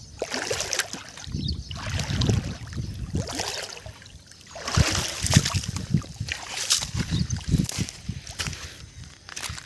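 Water of the wide, swollen Krishna river surging past during rainy weather, a loud rushing and sloshing roar with gusty wind buffeting, rising and falling in waves close to the listener.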